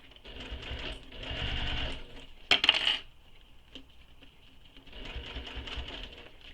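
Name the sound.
sewing machine stitching a circular bag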